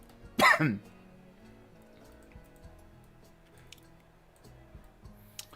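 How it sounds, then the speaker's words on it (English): A single sharp cough close up, then quiet room sounds with faint drips and small clicks. "I've had this cough for like a week now."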